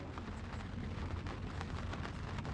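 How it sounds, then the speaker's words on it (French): Steady rain pours down in a dense, continuous patter on surfaces, with a low rumbling undertone and no voices. "Il pleut."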